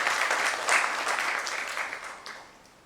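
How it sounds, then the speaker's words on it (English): An audience at a nursing conference session in a hotel hall claps for the panelists, a dense burst of applause that peaks early and then gradually fades away. "Can we please have a huge round of applause for our panelists once again?"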